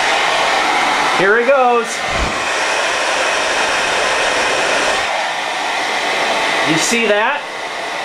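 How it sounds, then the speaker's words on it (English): A handheld blow dryer blasts hot air in a loud, steady whoosh that runs almost the whole time. Brief pitch sweeps from the motor come near the start and end, and a person speaks briefly over it. "Watch what happens when I introduce heat from the blow dryer."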